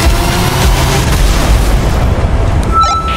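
A tank cannon fires in World of Tanks: a loud, close, deep boom with a rumbling tail that fades over about three seconds, with no talk over it.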